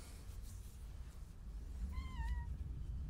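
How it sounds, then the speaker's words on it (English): A single thin, rising kitten meow rings out faintly over a low steady room rumble. "the kitten would like to say hi"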